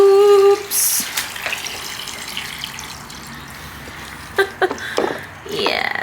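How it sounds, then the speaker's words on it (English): A tap runs water into a water bowser at a horse yard, making a steady trickle that is broken by a few louder splashes and knocks. "So I've just got to put my water on, which because that water is running down that drain, I know my water bowser is overflowing."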